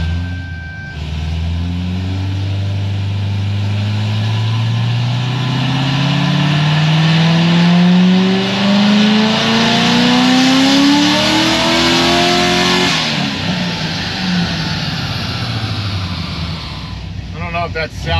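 A cammed, supercharged Corvette Grand Sport accelerates hard, its engine note climbing steadily in pitch for about twelve seconds before backing off, with a loud, close roar throughout and possible clutch slip or tire spin.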